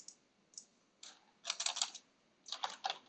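Typing on a computer keyboard while working in Grasshopper3d software: short clusters of close keystrokes in irregular bursts, with two denser runs of rapid clicks separated by brief pauses, and no voice.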